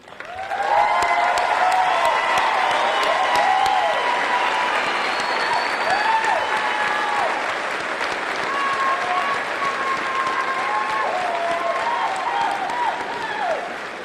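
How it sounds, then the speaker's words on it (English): Sustained applause from a large commencement audience at a spring undergraduate graduation ceremony, a loud, continuous roar of clapping that holds for over ten seconds, with some voices and cheers faintly mixed in. "Would all graduates please stand for one more round of applause?"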